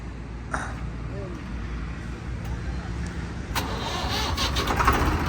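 A Swaraj 735 tractor engine is started with its self-starter, cranking and catching into a rumbling idle about two-thirds through, near and loud, with voices talking around it.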